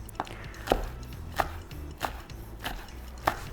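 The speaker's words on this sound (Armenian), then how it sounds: "Փարակ կտրում ենք, որ հետո վրան ավելացնենք մատուցելուց առաջ։" Fresh herbs chopped with a knife on a board: about six crisp, evenly spaced chops, close and alone, with no talking.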